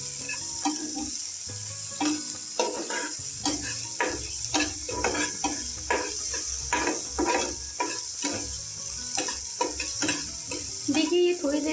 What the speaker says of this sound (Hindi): नमक डालने के बाद अब हम इसे अच्छे से मिक्स कर लेंगे